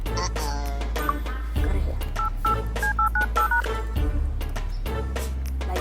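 A phone number is dialed on a phone keypad, a quick run of short beeping key tones in uneven bursts, close and clear over background noise and brief voices.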